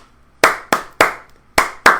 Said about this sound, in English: instead of from like me speaking it, it's me clapping it